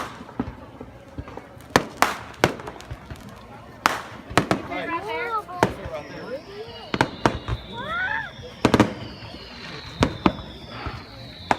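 Fourth of July fireworks bang and crackle repeatedly at irregular intervals, some sharp and loud, with voices calling out between the bursts.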